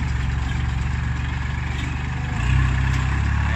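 A Kubota L3608 tractor engine runs steadily nearby in a muddy field, a loud, constant diesel drone that swells briefly toward the end, with no talking over it.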